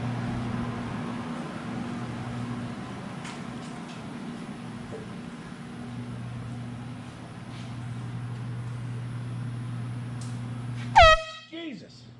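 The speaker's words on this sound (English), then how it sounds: "I'm gonna go see if they're awake in there with the air horn" A loud air horn blast erupts near the end after a long stretch of steady humming background noise.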